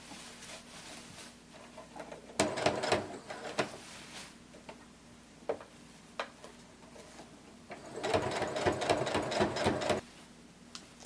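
A sewing machine stitches a seam on a sequin cardigan in two bursts of rapid, even needle clatter, separated by quieter pauses with a few isolated clicks.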